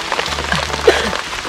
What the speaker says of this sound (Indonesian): Gak apa-apa hujan juga, ayo.